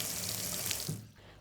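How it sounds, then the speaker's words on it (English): Water runs from a tap into a deep hot bath, a close, steady hiss and gush that fades out near the end, heard alone. "Mrs. Large ran a deep hot bath."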